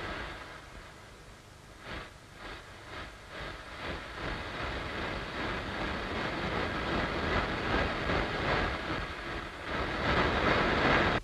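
A train rolls along the rails with a rhythmic clickety-clack of wheels over joints, its rumble building steadily louder.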